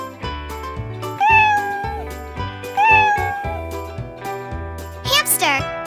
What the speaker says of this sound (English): How does a cat sound?